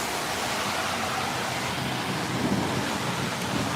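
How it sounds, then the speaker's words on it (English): A monsoon storm in Arizona, steady broadband rain and wind noise with low thunder rumbling underneath throughout, no voices. "the thunder's getting louder"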